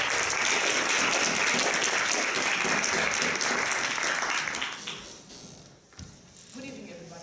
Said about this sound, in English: Let's welcome Raluca Culda with a round of applause.